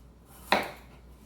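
A single sharp chop as a knife cuts through a Yukon Gold potato on a cutting board, one crisp close knock in an otherwise quiet kitchen.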